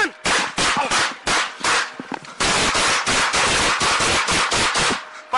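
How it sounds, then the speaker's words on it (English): Rapid volleys of gunshots ring out during a police shooting, a dense string of loud, sharp cracks with brief pauses between clusters, dominating a short stretch with no speech over them. "5-7 shots fired"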